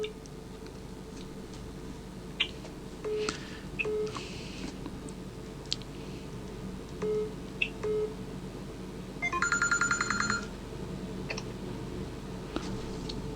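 Telephone dialing during a Thai radio call-in program, with scattered clicks and short tones followed by a longer burst of rapid dial tones, heard over a low steady hum.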